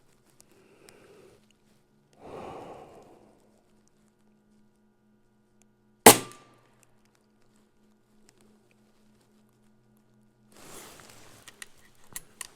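A Notos air rifle fires a single sharp, close crack at a 50-yard target, with soft shuffling and handling noises before and after it in an otherwise quiet setting.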